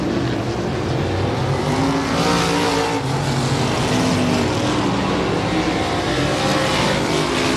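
Race cars roar around the oval at Big O Speedway, a dense, steady engine drone with several cars bunched together, loud and continuous throughout with no pauses.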